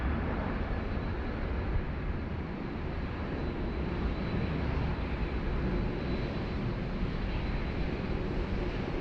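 A Qantas Airbus A330-300 airliner at Sydney Airport produces a loud, continuous broadband engine roar that holds steady throughout, with a touch of wind noise.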